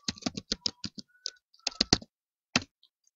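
Keys clatter on a computer keyboard in quick, close, irregular bursts of clicks with short pauses between them, and no voices.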